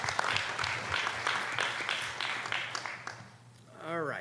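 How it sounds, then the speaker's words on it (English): Audience members at a school board meeting applaud school staff with moderate, scattered clapping, then a voice takes over near the end. "I'd like to give them a round of applause."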